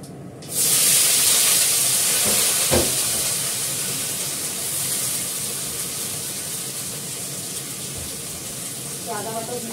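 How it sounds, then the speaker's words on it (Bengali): Nigella seeds (black cumin) hitting hot oil in a pan for Bengali cooking, with a sudden loud sizzle that settles into a steady hiss, plus a few clinks of a utensil. "আমি নিরামিষ তরকারিটা ফোড়ন দিলাম কালো জিরে"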